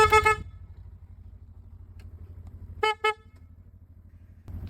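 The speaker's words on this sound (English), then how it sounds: "the horn for any road rage you might have." A Kemimoto horn fitted to a UTV sounds one loud honk, then two short toots close together a few seconds later, over a low steady engine idle.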